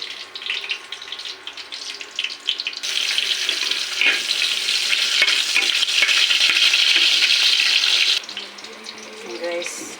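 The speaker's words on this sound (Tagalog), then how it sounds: "nagluluto ako ngayon guys ng yan, mixed vegetables guys, tsaka hipon, tsaka pusit" Squid and shrimp fry with mixed vegetables in a pan, a steady hissing sizzle that swells loud in the middle and eases off at the end, with scraping stir sounds and no talk.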